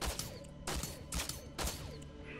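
Gunfire in the mouselook shooter game Stern: four sharp, fairly quiet blasts in an even series about half a second apart, with no talk.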